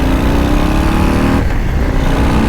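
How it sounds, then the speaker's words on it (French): A 2024 Harley-Davidson Flow Rider S cruiser motorcycle accelerates in second gear, its engine a loud, dense, rumbling roar with rising harmonics heard up close, briefly easing partway through, no talk over it. "On va essayer d'accélérer pour voir, on est en deuxième."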